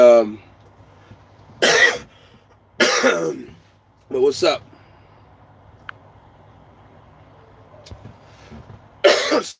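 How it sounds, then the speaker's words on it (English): Several harsh coughs close to the microphone, coming in separate bursts with quiet gaps between them, alongside a few spoken words. "Sorry about this cough, man. And I always had to cough."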